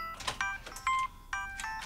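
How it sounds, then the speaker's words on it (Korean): A mobile phone rings in a short electronic melody of bright, repeating tones, fairly quiet and heard alone without any talking. "전화 왔다"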